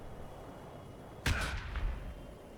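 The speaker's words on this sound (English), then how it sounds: "And now you can throw your grenade" A single grenade blast in Warhammer 40000 Battlesector, thrown at a Necron Warden in a Blood Angels versus Necron match, bursting sharply after a quiet stretch and trailing off into a short rumbling tail over low background hum.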